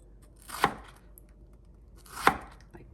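A knife chopping winter melon into large chunks on a cutting board: two loud, distinct cuts spaced well apart, close and with no talk.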